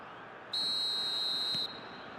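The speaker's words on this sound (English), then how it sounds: "Whistle's gone, that's a foul." A referee's whistle in the eFootball video game sounds once as a single steady, piercing blast of about a second, clear above a faint crowd-like background hiss.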